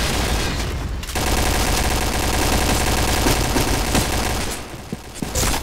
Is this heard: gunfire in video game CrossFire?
yes